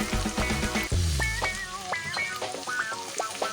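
Water pours into a pot of cooking dried beans, a steady splashing hiss with a deep gurgle near the middle before settling into bubbling and light clinks of the pot.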